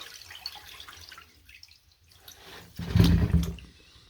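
Aquarium sand being washed in water, soft trickling and dripping that builds to a brief loud rush and slosh of water near the end.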